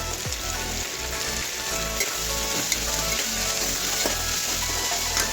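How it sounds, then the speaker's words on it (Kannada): Ginger garlic paste, coriander leaves and tomato frying in a hot pan, a loud, continuous sizzle with sputtering pops and occasional stirring knocks, close and unbroken, no talking. "ಈಗ ನಾನು ಇದಕ್ಕೆ ಶುಂಠಿ ಬೆಳ್ಳುಳ್ಳಿ ಪೇಸ್ಟ್ನ ಆ್ಯಡ್ ಮಾಡ್ತಾಯಿದ್ದೀನಿ."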